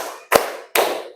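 Two loud, sharp group claps, close and well separated, from a fifth-grade class doing a rhythmic spirit-clapping routine in a classroom.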